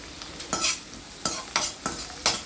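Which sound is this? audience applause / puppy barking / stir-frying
stir-frying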